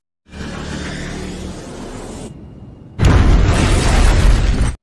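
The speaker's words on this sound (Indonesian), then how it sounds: "Namun sesaat kemudian pesawat itu meledak" An airplane explodes in an action film: a loud blast with a deep rumbling boom that fades into a low roar, followed by a second, harsher blast of heavy, crackling noise.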